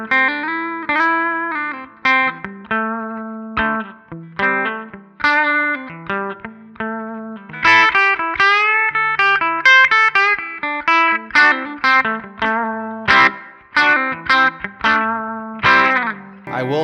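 Electric guitar played through a Line 6 Helix modeling the Jazz Rivet 120 amp, a busy run of picked notes and chords with effects shimmer and slight grit, loud and continuous for the whole stretch, no voices.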